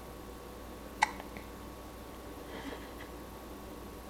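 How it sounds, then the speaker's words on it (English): A baby gives a single sharp hiccup, close and brief, then a fainter one follows amid quiet room noise. "Give us the hiccup burps like you were."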